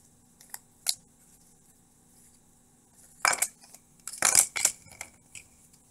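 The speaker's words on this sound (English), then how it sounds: "we'll shuffle them anyway" Cardboard tiles from the Explorers of Ixalan board game being shuffled on a table: a few sharp clicks, a pause, then clustered bursts of clattering and scraping up close.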